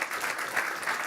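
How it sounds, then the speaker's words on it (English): Applause from a crowd at a boxing press conference, a short burst of steady clapping heard from a distance. "give him a round of applause"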